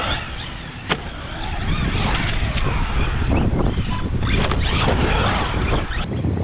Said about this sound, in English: It's a really windy day. Hopefully it's not killing the mic.